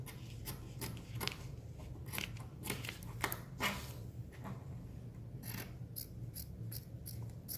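Repeated crisp snips of scissors cutting through material for a custom mascot head, close and fairly quick, with a faint steady hum underneath.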